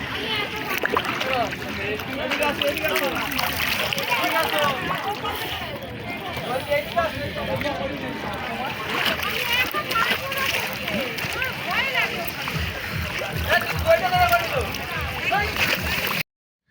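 People splash and wade in the Ganges at Bagbazar ghat in Kolkata, bathing after Holi colour play at high tide, with constant watery churning and splashes under nearby talk and children's voices.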